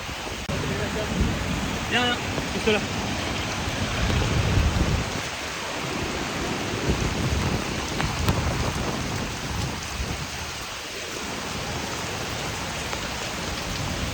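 Heavy rain pours steadily over a flooded street near an immigration post, a loud continuous wash of drops with occasional low rumbles, while people speak briefly under the downpour.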